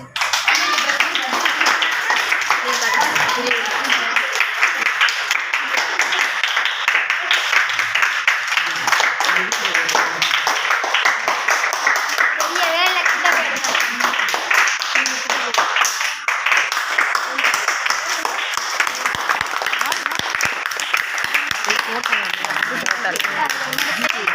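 A congregation at a Tamil Christian gathering blessing children claps loudly and continuously, a dense, sustained wash of hands with voices and cheering mixed in, near and full for the whole stretch.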